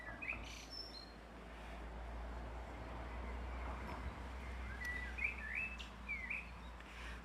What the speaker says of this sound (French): Et là on entend, alors il y a les merles, il y a les mésanges bleus